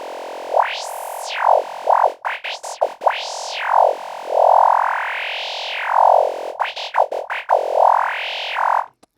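A dry synthesizer lead with no effects plays a bright, buzzy tone that glides up and down in pitch, with short choppy notes between longer swooping ones. It is loud and clear, with no voices.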